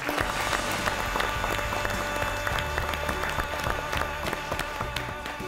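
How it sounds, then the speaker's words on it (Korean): A studio audience at a televised history lecture gives steady, loud applause to welcome guests. Music plays underneath the clapping. "박수로 맞이해 주시기 바랍니다"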